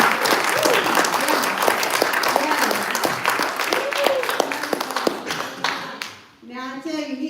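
Dense, loud audience applause for James R. Davis at a LiveGood Super Saturday event in Dallas, steady crowd clapping for several seconds that thins out near the end before a voice comes in.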